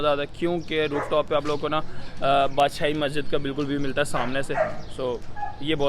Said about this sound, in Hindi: कि इधर कुत्ते भौंक रहे हैं बहुत।